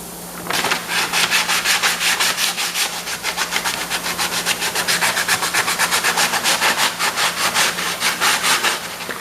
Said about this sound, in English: I want to take some sandpaper and just kind of sand these little pieces down that I missed